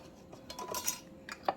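A ring and lid are put on a glass canning jar of relish, giving faint, light metallic clinks and scrapes, a few small taps in quick succession at close range with no talk.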